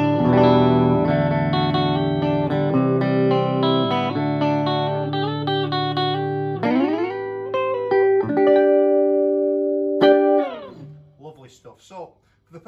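A used Tokai Love Rock electric guitar in honeyburst finish, set to both pickups with volume and tone controls on full, played through effects as sustained chords and single notes with a brief pause near the end.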